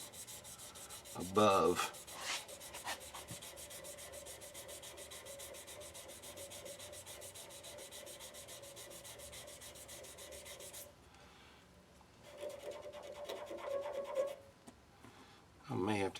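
Sandpaper rubbing a wooden shaving brush handle with steady scratchy strokes, close and fairly quiet, broken by short pauses and a brief spoken word.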